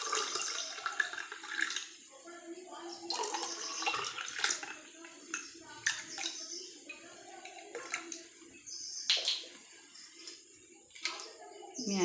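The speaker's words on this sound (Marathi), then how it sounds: "आता मी पाणी घालत आहे।" Water is poured into raw mango panna in large glasses, giving a series of close, splashing pours in separate bursts with short gaps between them. A voice speaks quietly in the background.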